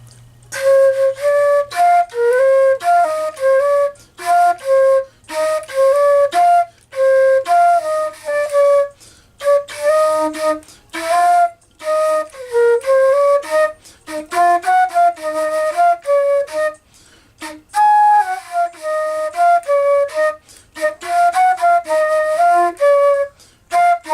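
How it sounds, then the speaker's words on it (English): A flute plays a lively tune in short phrases of quick notes separated by brief pauses, clear and up close, with no talking. "as you can hear the flute in the background."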